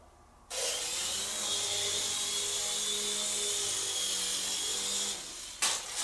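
A Happy Cow Eidolon 2-channel infrared RC toy helicopter flies nearby, its small rotor and motor giving a steady high whine that runs for about five seconds before cutting out abruptly.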